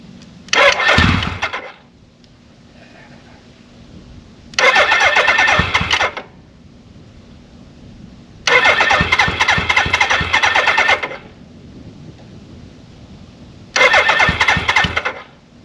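A 1983 Suzuki GS1100E motorcycle engine is cranked four times, each burst of starter whirring and sputtering lasting one to three seconds, loud and close, with quiet pauses between attempts and no catch into a steady idle.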